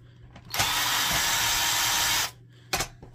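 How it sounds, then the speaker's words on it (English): A power drill backs screws out of an Epson XP-4100 printer, with one loud whirring burst of about two seconds followed by a short second whir. "And let's just start removing the screws."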